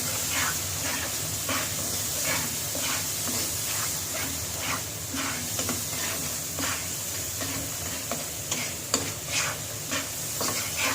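Ground spices with ginger-garlic paste frying in oil in a pan for a beef curry, a steady close sizzle broken by repeated scraping stirs in an irregular rhythm, with no talking.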